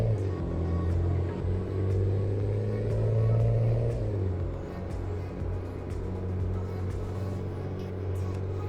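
A RAM 3500 pickup truck engine in American Truck Simulator rumbles steadily at a loud, close level, its pitch rising briefly as it revs harder before settling into a sustained drone.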